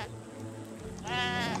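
In an Aztec versus Japan video game match, one clear sheep bleat rings out in the second half, a brief quavering call over a steady hum of game ambience.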